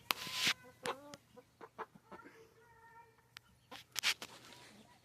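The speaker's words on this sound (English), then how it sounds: "And I have the little chickies in here enjoying it." Chicks and chickens in a coop cluck and cheep in short, scattered bursts at close range, with quiet gaps between calls.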